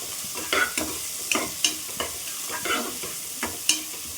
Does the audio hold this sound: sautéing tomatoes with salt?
yes